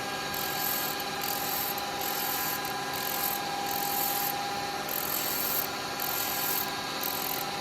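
Sandpaper rubbing against a spinning wooden Christmas decoration on a woodturning lathe, a steady continuous scratchy hiss over the motor's hum with faint rhythmic pulsing, no talking.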